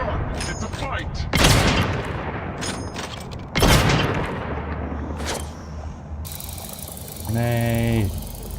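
Gunfire and a grenade blast in The Outer Worlds 2: two sharp, loud bursts with decaying booms, amid mechanical clatter and game sounds, with voices speaking.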